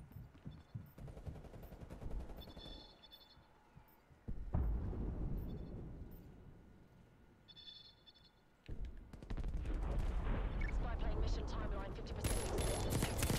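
Rapid pistol gunfire and battle noise from the video game Call of Duty: Black Ops Cold War come in dense, loud bursts over game background sound, and a player talks throughout.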